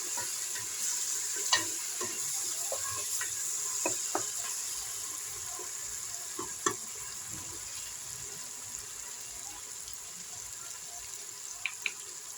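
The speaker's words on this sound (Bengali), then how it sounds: "আদাটাকেও নেড়ে চেড়ে নিচ্ছি তারপরে বাকি মশলাগুলো দিয়ে দিচ্ছি" Ginger fries in a pan for beef korma while being stirred, giving a soft, steady sizzle broken by occasional light scrapes and clicks of the spoon against the pan, with no talking.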